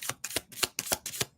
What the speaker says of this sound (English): These do not need to be shuffled like that.